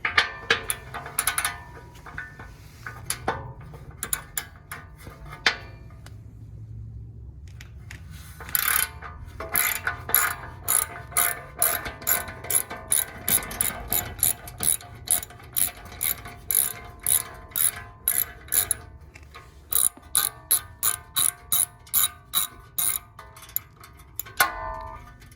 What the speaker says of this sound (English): all you need is your ratchet and a 1/2-inch socket